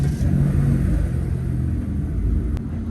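A Lexus LS460 (40-series, about 110,000 km, reported abnormal noise) idles with a steady low rumble after starting, close and fairly loud, with no talk over it.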